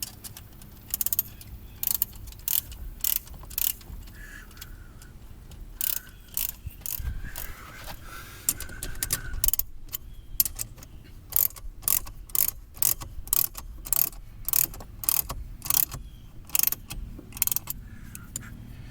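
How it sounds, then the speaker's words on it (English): A wrench ratchets to tighten an X-Chock wheel stabilizer between RV tires, producing a long series of sharp, close clicking bursts in an uneven rhythm, with brief pauses between strokes. "Use the wrench that comes with them."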